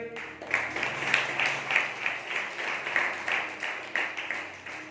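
A congregation claps hands during a Sunday church service, a broad sustained wash of applause that pulses in roughly even surges, fairly loud and steady throughout.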